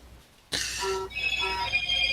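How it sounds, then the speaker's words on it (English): A phone suddenly starts ringing indoors after a near-silent pause, its bright electronic ringtone sounding in repeated tonal bursts, close and fairly loud. "hold on, my phone's going off"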